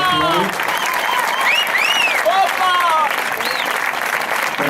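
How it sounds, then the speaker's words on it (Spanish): An audience at a band concert during patron saint festivities claps loudly and continuously, a dense wash of applause with cheers and whoops rising above it, and some voices mixed in. "María yo creo que también se merece un aplauso"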